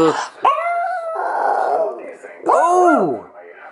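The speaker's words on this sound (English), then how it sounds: "That was a weird howl." A dog lets out two close, loud howls in a home, each a drawn-out wavering cry, the second rising and falling more sharply than the first.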